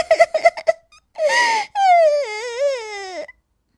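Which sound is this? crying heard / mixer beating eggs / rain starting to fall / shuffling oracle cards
crying heard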